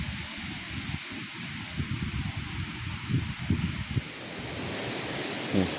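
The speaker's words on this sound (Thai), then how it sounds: "ลมพัดนะพี่น้อง" Wind gusts across an open hilltop field being cleared of grass, a broad rushing roar with buffeting rumbles against the microphone that rise and fall throughout.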